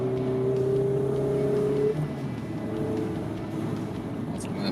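Mazda MX-5 Miata ND roadster with the 2.0-litre four-cylinder engine, steady drone that drops in pitch mid-clip as it downshifts, loud and close with a voice speaking over it.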